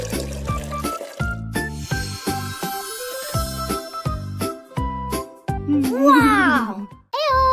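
Water poured over Skittles for a children's rainbow craft, a faint trickle set beneath bright music and children's voices.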